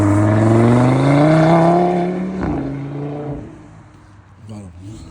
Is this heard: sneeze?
no